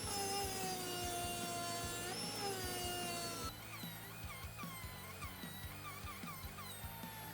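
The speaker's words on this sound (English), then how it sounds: "I absolutely abused this sanding drum" A Dremel 8260 brushless rotary tool running a sanding drum hard, a steady high-pitched motor whine with a drop in pitch partway through, then rougher grinding with repeated scraping pulses close by.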